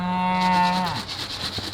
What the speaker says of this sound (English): there's how many cows up here, Jack?